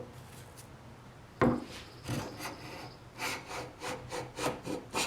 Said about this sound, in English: So I'm getting a shaving, a full width shaving, all the way across now